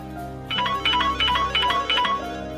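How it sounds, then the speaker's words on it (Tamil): Phone ringtone from an incoming call, a bright repeating electronic melody in about five evenly spaced bursts, clear and fairly loud over a low background hum. "அப்பா போன் பண்றாரு."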